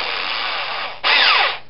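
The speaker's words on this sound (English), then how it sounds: "you just drill it in and then wiggle it back and forth and you pull it out" A drill fitted with a hole-saw bit bores into a plastic fitting, a steady grinding whine that rises sharply louder in its final half second, close and alone.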